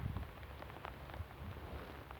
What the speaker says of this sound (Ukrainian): йде дощ, холодно